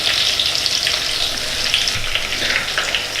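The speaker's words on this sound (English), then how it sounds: "I'm going to fry this fish, say about 5 minutes or so" Fish frying in a pan for a Nigerian fish stew, a steady loud sizzle and crackle running continuously with no break, close by and with no voices over it.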